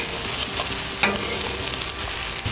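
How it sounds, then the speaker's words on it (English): Rice stir-fries in oil on a flat top outdoor griddle, sizzling steadily while a spatula scrapes and stirs it in a few sharp strokes. "So we're going to be putting down some oil, and the rice will go down right on top of that."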